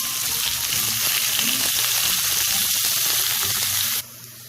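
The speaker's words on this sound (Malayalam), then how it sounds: "എണ്ണ ഒഴിച്ച് ചൂടാകുമ്പോൾ അതിലേക്ക് സവാള ഒന്ന് നന്നായിട്ട് നമുക്ക് വഴറ്റിയെടുക്കാം." Onions sauté in hot oil in a pan, giving a loud, continuous close-up sizzle with faint crackles that drops abruptly near the end.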